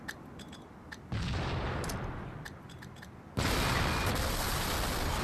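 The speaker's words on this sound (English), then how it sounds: "this kind of shows you just how much it takes to destroy a tank" Grenades exploding against a tank in the video game Halo 2, a loud sustained roar of blasts and gunfire that jumps even louder partway through, with sharp crackling bursts throughout.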